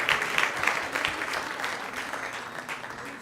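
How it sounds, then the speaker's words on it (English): Audience at a devotional Krishna Katha gathering applauding: a dense, even round of many hands clapping that holds steady and tapers slightly, with no voices over it. "So let's give them a big round of applause as well."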